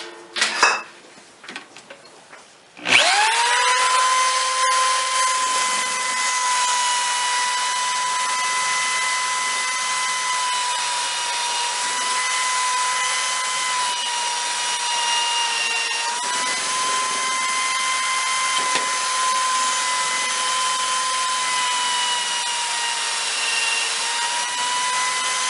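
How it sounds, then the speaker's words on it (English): An antique milling machine's drum, fitted with new sandpaper, spins up after a few clanks and runs with a steady, loud whine and gritty hiss that holds evenly for over twenty seconds. "got some new sandpaper on the drum"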